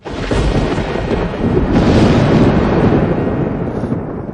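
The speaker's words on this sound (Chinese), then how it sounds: "你看这天都打雷了" Thunder of a heavenly tribulation storm rolls loud and continuous, a deep broadband rumble that swells near the middle and eases toward the end, with no voices.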